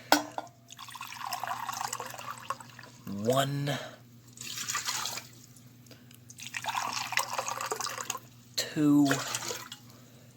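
Cups of water are poured into a container to be boiled. There are two distinct, close gushing pours, each rising in pitch as it fills, between stretches of a person speaking and counting.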